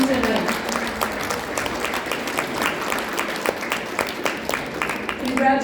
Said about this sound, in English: Let's give a warm hand of applause to all the beautiful, strong ladies in the room tonight.